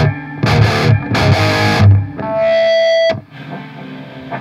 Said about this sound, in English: you're hearing like the springs inside the guitar kind of resonate